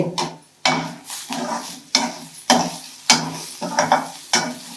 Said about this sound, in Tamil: இவ்வளோ சில்லு போட்டு வதக்கோங்க